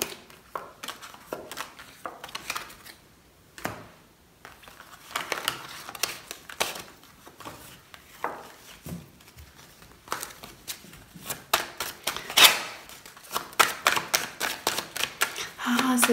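Oracle cards are gathered up and drawn by hand, giving a long run of close, crisp snaps, shuffles and soft rustles in irregular bursts, with someone talking over them at times.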